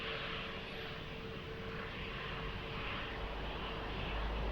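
A steady, loud airplane engine roar at Lisbon Airport near runway 20 holds constant throughout without breaks.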